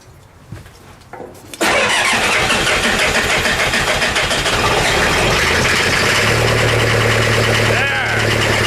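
An engine in an 80s chassis cranks briefly, catches and settles into a loud, steady close idle that runs to the end.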